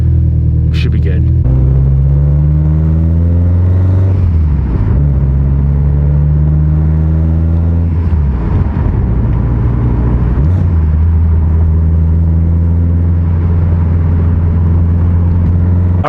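A tuned car engine runs during a short test drive, a loud low rumble with several rising revs as it accelerates through gears, dropping and climbing again in pitch close by.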